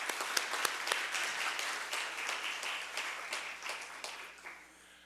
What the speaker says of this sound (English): Again, another round of applause for our host.